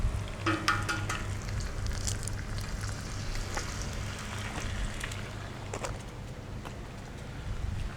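Eggs fry in leftover bacon grease in a pan, a steady close sizzle and crackle running throughout with scattered sharper pops, no voices over it.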